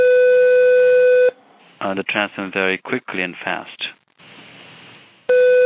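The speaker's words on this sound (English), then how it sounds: "a phone is ringing" An electronic phone ring tone sounds, stops while a person speaks, then starts ringing again at the end.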